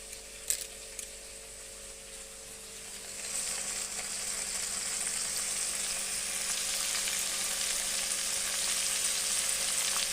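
Spices and cumin paste fry in a pan, a few sharp taps at first, then a steady hiss and sizzle that grows louder and holds evenly.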